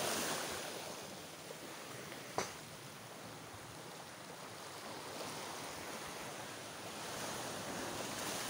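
Sea waves at the shore during fishing make a continuous broad wash of surf mixed with wind, steady and fairly loud with no pauses, and a brief knock near the start.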